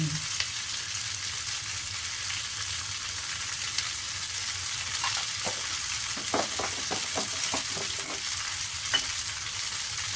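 Noodles stir-fried in a wok with oyster sauce and sugar, tea-shop style, a loud continuous frying hiss with a cluster of quick spatula scrapes and taps near the middle, no voices.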